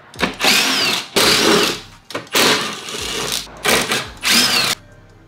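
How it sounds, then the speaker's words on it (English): A power driver backs out T30 screws from a panel on a 2020 Toyota Supra MK5, five loud whirring bursts close by with short pauses between them and no talk. "I believe like T30s. So I'm gonna go ahead and just unscrew these"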